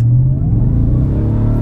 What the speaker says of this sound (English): let's floor this thing and hear the supercharged V8